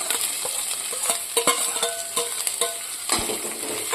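Capsicum tossed into onions frying over high gas heat for leftover-rice manchurian, a steady bright sizzle with sharp spatula scrapes and clinks against the pan throughout.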